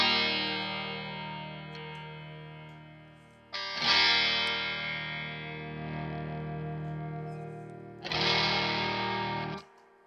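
Sustained distorted electric guitar chords ring out with a thick, heavy low end, struck again partway through and left to decay.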